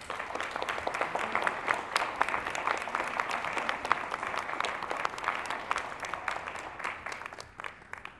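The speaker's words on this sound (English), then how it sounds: "Let's give a big round of applause to Kathleen Waltz and our team" An audience at a school board meeting gives steady, moderately loud applause, many hands clapping densely with a few sharper claps standing out, holding throughout before tapering slightly at the end.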